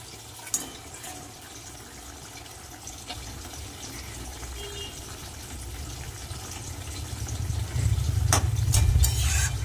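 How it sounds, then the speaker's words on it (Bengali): Fish curry broth for a parshe fish jhal boils in the pot with a steady watery bubbling that starts faint and grows louder and more vigorous toward the end, with no voices. "ঝোল কিন্তু টকবক করে ফুটছে"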